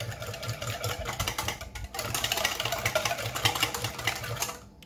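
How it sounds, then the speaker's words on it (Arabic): Eggs and sugar for a chocolate cake batter are beaten with an electric mixer, which gives a steady motor whir with a rhythmic pulsing hum that runs close and continuous for a few seconds before cutting off. "غادي نخلط هاد المكونات هادو مزيان حتى ينسجموا لي مع بعضهم."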